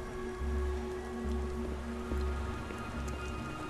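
Steady rain patters and drips on surfaces in the video game Beyond: Two Souls, a soft, continuous, fairly quiet wash with scattered droplet ticks and no talking.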